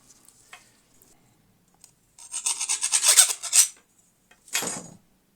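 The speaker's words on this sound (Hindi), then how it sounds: "इस तरीके से इसको जो है इसके बुर वगैरह को साफ़ कर लेना है आपने, और कील की इसको राउंड कर लेना है।" A metal nail filed round to clear its burrs during a dynamic microphone repair, with close, harsh rasping strokes in a rhythmic burst followed by a shorter second pass, set against near silence.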